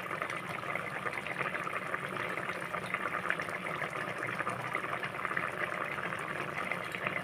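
Mirka fish curry bubbles in a pot, a soft, continuous simmering burble heard close and steady, with no voices.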